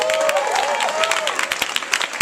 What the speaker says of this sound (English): Let's give them a round of applause as we come forward